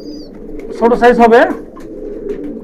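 A hand-held Kashmiri Kaldom pigeon, a small-sized bird, gives a low, steady coo, close and fairly loud, while someone talks over it in the middle.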